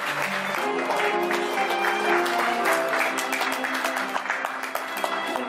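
Wedding guests applaud steadily throughout, a dense, even wash of clapping at moderate level with a low musical tone underneath.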